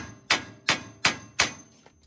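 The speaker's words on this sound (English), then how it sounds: "So for these the top and bottom little knuckles, you're just gonna hit them" Hammer strikes knocking the upper and lower suspension knuckles loose on a Ford F-150 during a leveling kit install: four sharp, evenly spaced metallic blows, close and loud, with no talking.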